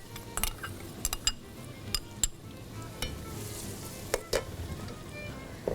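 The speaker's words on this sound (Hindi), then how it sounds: "यहाँ पर है 1 अदद प्याज मेरे पास, इसको हम हल्का सा फ्राई करेंगे" Onion lightly frying in cooking oil, a soft steady sizzle with scattered clinks of a spoon or utensil against the pan, quiet and without talk.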